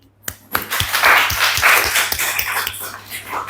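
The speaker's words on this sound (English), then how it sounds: "This clapping actually an appreciation of the students who are speaking good" Students in a classroom clap in appreciation, a round of sharp, fairly close claps with a steady rhythm that swells and then eases off over a few seconds.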